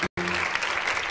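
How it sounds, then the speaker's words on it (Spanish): Studio audience applause on a Chilean television talk show, a dense wash of clapping that cuts out abruptly for an instant then resumes at full, steady loudness. "No aplaudan eso."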